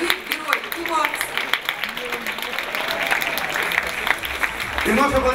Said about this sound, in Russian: И наши аплодисменты звучат в честь победителей среди девятых классов Всероссийской олимпиады школьников по химии.